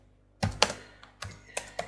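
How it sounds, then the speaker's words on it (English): Keys on a computer keyboard are pressed in a short burst of close, crisp clicks: a few quick strokes, a pause, then several more evenly spaced taps. "So now I'm typing"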